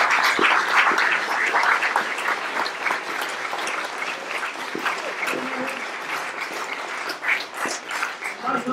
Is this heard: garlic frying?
no